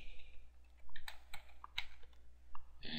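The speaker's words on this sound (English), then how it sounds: "so we'll type in admin." A short burst of typing on a computer keyboard, with close, quiet clicks in an irregular rhythm over a low steady hum and no speech.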